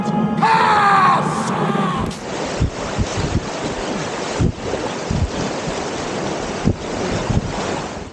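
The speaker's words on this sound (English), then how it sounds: "Wizard Falls is really cool. It's like a white water chute between two ledges." White water of Wizard Falls on the Metolius River, rushing through a chute between two ledges, makes a steady broadband roar with wind buffeting the microphone. A louder tonal noise at the start gives way to continuous rushing water.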